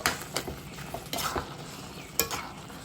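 Brinjal (eggplant) frying in a pan, cooked together with calabash and potato, makes a steady sizzle with stirring scrapes and occasional utensil clinks close by.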